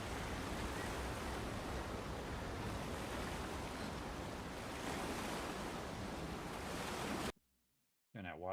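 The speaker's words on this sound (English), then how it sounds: "Turn that water noise off." Steady water ambience from the video game The Outer Worlds 2, a loud continuous wash like surf or rushing water that fills the clip alone, then cuts out abruptly near the end.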